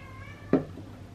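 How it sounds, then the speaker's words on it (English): A cat lets out a single short, fairly loud meow close by, standing alone against a quiet indoor room tone. "She's demanding my attention because I'm busy doing this. That's why she's meowing."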